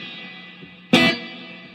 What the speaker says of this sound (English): I like a darker reverb.